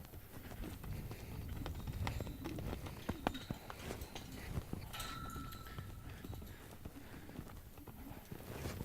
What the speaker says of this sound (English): Let her lope around here a few circles.